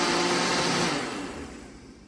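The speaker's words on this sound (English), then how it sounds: "Put the lid on and then blend well." A blender whirs through a mix of chocolate milk, Cool Whip and condensed milk, a dense steady roar that holds for about a second, then eases off and fades lower.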